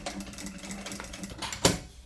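A sewing machine stitching a fabric panel for a cube-shaped toiletry bag, backstitching at the start of the seam with a steady close whirring run that ends in a sharper burst.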